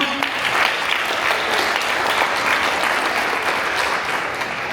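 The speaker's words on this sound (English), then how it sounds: "Big applause for" Sustained applause from a gala audience honoring a celebrity singer at an Indian American Heritage Day event, dense and steady throughout, with no talk over it.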